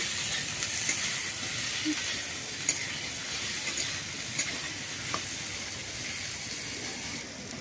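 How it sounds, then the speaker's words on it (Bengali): Potatoes fry in a pan until browned, giving a soft, even sizzle close by with faint stirring clicks scattered throughout. "এখন আমি এই আলুটাকে ভালো করে লাল লাল করে ভেজে নেব"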